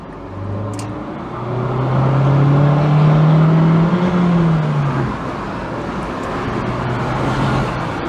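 A Renault Avantime accelerates hard on an open road, heard from inside: the engine note climbs steadily over several seconds, drops at a gear change, then settles into a steady drone over road noise.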